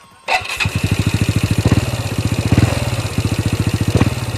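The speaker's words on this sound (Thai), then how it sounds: "บิด บิดแล้วมันจะวอด สงสัยต้องได้เปลี่ยนหัวฉีดนะครับนะ" A motorcycle engine with a suspected fuel injector fault revs as the throttle is twisted, producing a loud, close, rapid, steady pulsing beat with slight surges and no talking.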